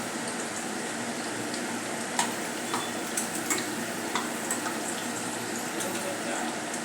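Chicken nuggets frying in oil over a low flame, giving a steady soft sizzle with faint ticks and crackles throughout, no talking.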